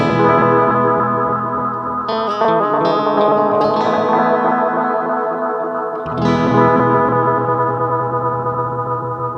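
Guitar through a chorus pedal with feedback high and mix fully up, sustained chords shimmering and swirling with a watery, doubled quality, loud and continuous with no voices.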